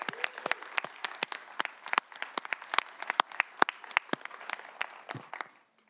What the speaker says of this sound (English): A round of applause, please, for all of this year's class.